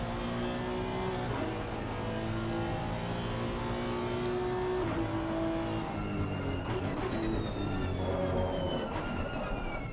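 An onboard race car engine at Spa in a sim racing game drones steadily and loudly, its pitch climbing and dropping through gear changes, with no talk.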